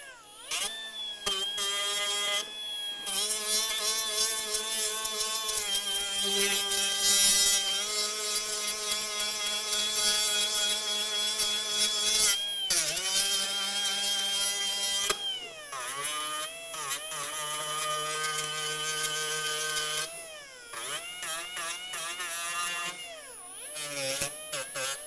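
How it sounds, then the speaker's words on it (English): A small Bosch sanding disc tool grinds a Harley-Davidson touring saddlebag lid, whining loudly and steadily with pitch changes and brief pauses as it bites into the material, heard alone without talk. "I love this little Bosch tool, little sanding disc"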